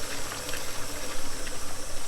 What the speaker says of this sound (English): I'm gonna give that a little more steam.